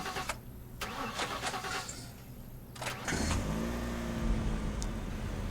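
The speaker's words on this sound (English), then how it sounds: "Hold F to start the car." A car engine starts in The Last Stand: Aftermath: a short cranking burst, then the engine catches and settles into a steady, fairly loud idle hum with a few slight revs, with no voices.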